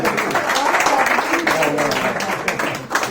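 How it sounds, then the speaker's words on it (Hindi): An audience at an Urdu mushaira poetry gathering in Milton, Canada claps in a dense, continuous patter, with a voice mixed in. "तालियां बजाइए।"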